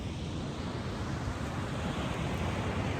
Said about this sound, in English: Nice beach here.